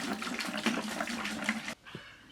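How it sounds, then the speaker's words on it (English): Vinegar poured into a 5-gallon bucket, giving a loud, steady rushing gush of liquid that cuts off abruptly, followed by a few faint drips and knocks. "I'm going to go ahead and just pour the vinegar in the bucket"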